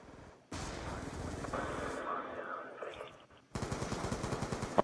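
Heavy automatic gunfire from the video game Call of Duty: Black Ops 2, dense rapid bursts that break off briefly before a sharper, faster stream of shots resumes, loud and close.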